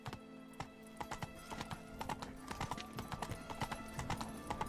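Roach, a horse in The Witcher 3, gallops in a steady run of close, clear hoof clip-clops over a game soundscape, with a brief whinny; no talk.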